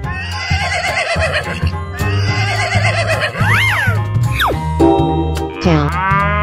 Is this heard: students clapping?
no